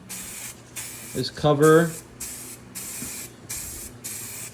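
Aerosol spray paint hisses onto a car wheel in repeated bursts of about half a second with short pauses between, close to the microphone, while someone talks briefly over one of the gaps.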